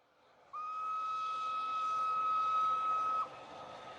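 Train sound effect in a read-along story: a single sustained, clear whistle tone lasting nearly three seconds over a low rumbling background, moderately loud and with no speech.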